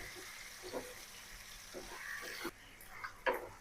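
Chicken meat frying in a pan with browned chopped onions, cardamom, cinnamon and cloves gives a soft, faint sizzle broken by several sharp clinks and scrapes of stirring.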